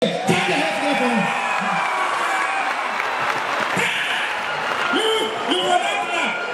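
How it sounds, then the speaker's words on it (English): An audience at a comedy event applauds and cheers steadily, with whoops and shouts mixed in, while someone talks loudly over the noise throughout. "Jam your hands together for him. You go stand up, clap now"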